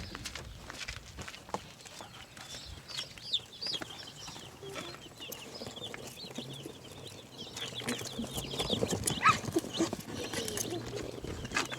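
Cornish Cross meat chicks chirp steadily inside a moving car, a dense stream of high peeps over low road rumble, rising louder toward the end.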